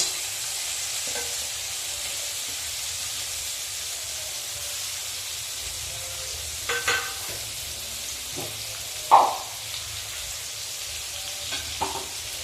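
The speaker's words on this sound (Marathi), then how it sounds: "तर आपण हे सर्व चांगले परतून घेऊ।" Onion, spices and other ingredients for a village-style eggplant curry sautéing in a pan, giving a steady quiet sizzle with a few soft clinks and scrapes of stirring.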